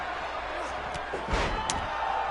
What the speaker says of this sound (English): Oh, nice clothesline onto Stevie Ray